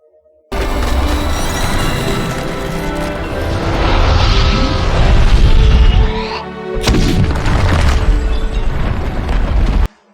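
The Dark Tower Barad-dûr collapsing in a fantasy epic film scene, a loud continuous roar of rumbling booms and crashing debris that swells, dips briefly and then surges again before cutting off.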